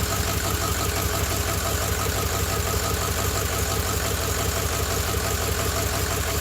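An engine idles with a small exhaust leak, giving a steady, close, rhythmic ticking pulse over a low rumble that continues without change and with no talking.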